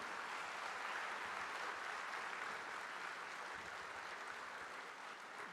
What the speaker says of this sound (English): That truly deserves a thrilling round of applause, ladies and gentlemen.